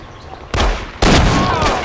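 Gunfire in Mafia 2, two loud close blasts about half a second apart, each followed by a sustained burst of rattling shots and echo.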